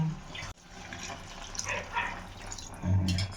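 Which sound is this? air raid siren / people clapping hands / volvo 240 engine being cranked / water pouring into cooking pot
water pouring into cooking pot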